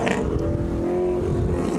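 An LS V8-powered car accelerates around an autocross course at Anaheim Stadium, its engine giving a steady, sustained roar at moderate distance with no pauses.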